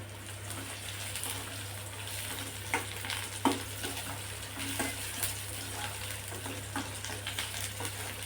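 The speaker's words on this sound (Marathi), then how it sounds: "आता बारीक चिरलेला कांदा सुद्धा टाकायचा आणि कांदा व्यवस्थित तेलावर परतून घ्यायचा" Finely chopped onion sautéing in oil in a pan for a dry capsicum dish, a soft, even sizzle running throughout, with a few light stirring taps.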